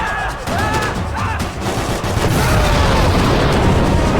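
Video game combat: loud, dense bursts of gunfire mixed with booming set-piece explosions, a continuous heavy barrage that swells and stays intense throughout.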